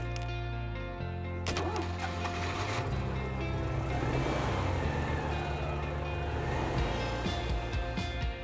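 A Citroën 2CV car starts and drives off along a touristic country road, its small engine running steadily and fairly close, with a few mechanical clicks and thumps as it sets off.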